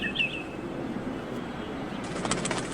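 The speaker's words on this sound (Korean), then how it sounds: "얼핏 보면 참새처럼 보이는 이놈이 바로 그 유명한 핀치라는 새다." A Darwin's finch on a windy Galapagos island gives a brief high chirp at the start, followed near the end by quick fluttering wingbeats over steady outdoor noise.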